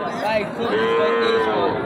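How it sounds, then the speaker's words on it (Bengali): A young bull gives a single long, loud moo nearby at a cattle market, a low drawn-out bellow that fills the moment. "মেহেদি হাসান চলে আসছে গরুর হাটে।"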